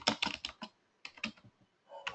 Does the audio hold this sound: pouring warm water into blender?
no